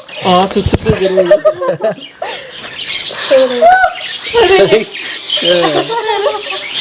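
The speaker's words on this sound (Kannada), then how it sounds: "ನೋಡಿ, ಇದು ಅಮೇರಿಕನ್ ಕೊನ್ಯೂರ್ ಬರ್ಡ್ ಅಂತ." An American conure parrot at a fruit-growing resort squawks in a string of short harsh calls, loud and close, with people talking over it throughout.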